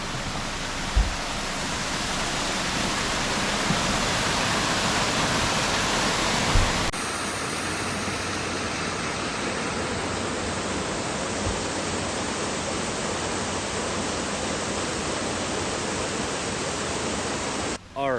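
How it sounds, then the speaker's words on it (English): A loud, steady rush of falling water fills the clip, broadband and constant, with a waterfall in El Yunque rainforest, Puerto Rico, roaring close by and no pauses throughout. "Alright, so there is waterfall number one."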